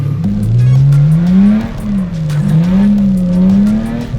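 Old car engine revving hard while its clutch is tested, a loud, close motor rising and falling in pitch through several revs with a brief squeal-like whine, no talk over it.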